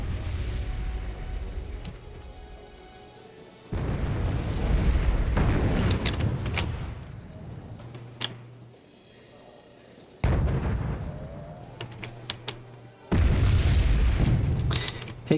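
Artillery fire traded back and forth in the real-time strategy game Wargame Red Dragon, with deep booming blasts arriving in several heavy bursts separated by quieter rumbling stretches.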